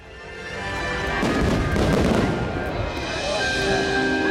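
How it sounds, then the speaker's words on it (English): Booming bursts from the fireworks show at Mickey's Not-So-Scary Halloween Party, building to a dense crackling peak and then easing back, mixed with crowd noise and background music. "the not so spooky spectacular fireworks were about to start"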